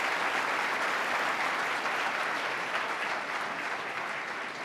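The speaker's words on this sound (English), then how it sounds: "Let's stand up and let's give them a round of applause and thank you for being here." A large audience at a governor's address gives sustained applause, a dense, even wash of clapping from many hands filling the room throughout and gradually easing at the end.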